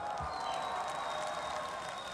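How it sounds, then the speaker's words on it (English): A metal concert crowd at Devilstone festival in Lithuania applauding and cheering steadily, a dense wash of clapping that stays even throughout, heard from some distance. "Give yourselves a huge round of applause,"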